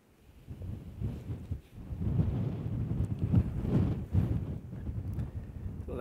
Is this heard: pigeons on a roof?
no